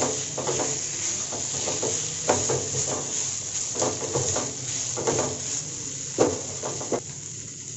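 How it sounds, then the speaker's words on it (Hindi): Potatoes being stirred and fried in a pan for bada pav filling, with a steady soft sizzle under repeated scraping strokes of a spoon against the pan, close and alone. "हम इसमें हमारे आलू ऐड करेंगे और इसे भी अच्छे से भून लेंगे"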